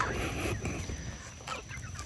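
A rooster and hens cluck and murmur close by, a busy flock with overlapping low clucks and a few sharper calls.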